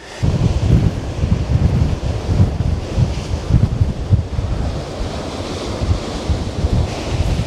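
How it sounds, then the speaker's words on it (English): Ocean waves pound onto rocks along a near shore, a continuous loud roaring surge with repeated crashing swells, buffeted by wind noise on the microphone. "there's some pretty awesome waves pounding in onto the into the rocks on the near shore here"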